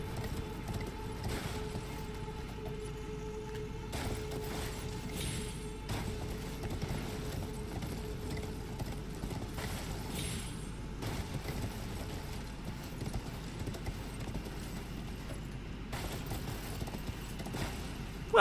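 Horse hooves galloping in Elden Ring, a steady clip-clop rhythm running throughout at moderate level over a low ambient game backdrop.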